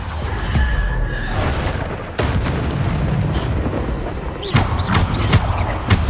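A Bombarda explosion spell booms in the Hogwarts Legacy video game, with several loud, close blasts in quick succession amid battle noise.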